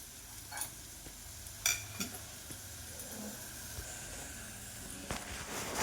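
Semolina pitha frying in hot oil, a soft steady sizzle with a few brief crackles and clinks across the clip, fairly quiet and with no talking.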